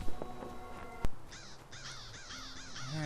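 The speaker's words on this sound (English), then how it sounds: "And our last crow here." A crow in the Lord of the Rings Online game caws in a run of several harsh, close calls after a sharp click, over faint tonal game ambience.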